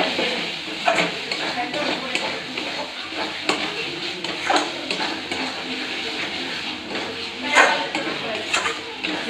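Masala spices fry in a pan for chicken curry, a busy close sizzle punctuated by repeated spatula scrapes and clinks against the pan, with a voice talking over it.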